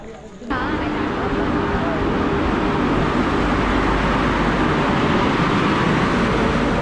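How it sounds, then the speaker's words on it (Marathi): A loud, steady rumble and roar builds suddenly and holds, a Konkan Railway train pulling into a Mumbai station close by, with voices faintly underneath. "अभी हमारी ट्रेन आ रही है"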